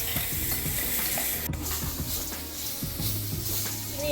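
A ground paste of ginger, garlic and green chilli frying with onion sizzles steadily in a pan, with frequent scraping stirs and light clatter of the spoon, close and unaccompanied by voices.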